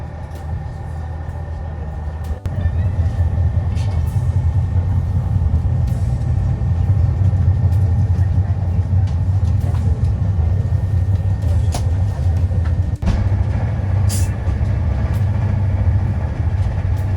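Trenitalia train near Naples heard from inside the carriage, a steady low rumble and hum after a brief quieter start, with a couple of faint clicks and thuds, no talk.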